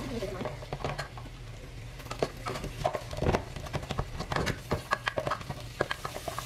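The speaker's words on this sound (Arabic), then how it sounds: "حطيت هنا زيت وبصل وحقلبهم لحد ما يدبل البصل معايا" Onions stirred in oil in a cooking pot, heard as irregular scraping and soft knocking of a spoon against the pot, with faint sizzling underneath and someone talking over it.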